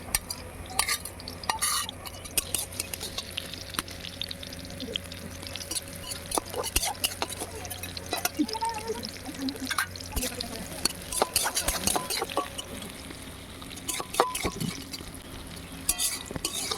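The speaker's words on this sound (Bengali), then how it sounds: "কাজু আর কিশমিশগুলো আমি একসঙ্গে একটু অল্প করে ভেজে তুলে নেব।" Cashews and raisins fry in ghee in a pan, with soft sizzling, stirring and scraping clicks and light utensil knocks, fairly quiet throughout.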